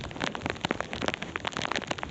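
Steady rain patters on surfaces outdoors while someone walks through it, a dense close hiss of drops with scattered louder splats throughout and no voices.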